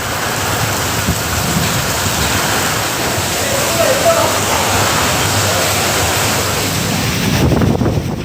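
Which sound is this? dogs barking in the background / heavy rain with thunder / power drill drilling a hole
heavy rain with thunder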